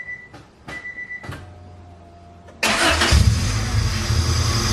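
After a few faint clicks, a Honda Civic EG engine with a newly installed stage 4 clutch cranks and catches with a loud burst, then settles into a steady, close rumbling idle.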